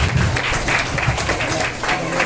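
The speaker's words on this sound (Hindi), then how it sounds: "जोरदार तालियों से स्वागत करें हमारे सुशील कुमार" An audience claps to welcome a speaker onstage at an event, a brief burst of moderately loud applause from a gathered crowd, dense and uneven without any clear single claps standing out.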